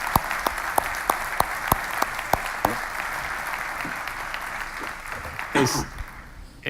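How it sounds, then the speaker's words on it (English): Applause from a seminar audience builds over a few seconds to a steady wash of clapping. A handful of sharp single claps stand out near the front before it thins and fades. "I would like to ask you for an energetic and warm applause for Alfredo, please."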